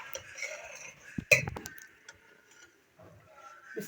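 Utensils clink against dishes while dal mash and chicken are served in a home kitchen, a few quiet metallic taps and scrapes, close and faint, with brief soft speech.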